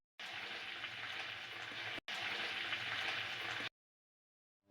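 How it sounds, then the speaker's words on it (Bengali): Chicken leg pieces fry in hot oil in a pan over medium heat, giving a loud, dense, continuous sizzle that breaks briefly once and then stops abruptly before the end. "মিডিয়াম আঁচে 3 থেকে 4 মিনিটের মতো এপিট ওপিট ফ্রাই করতে থাকবো"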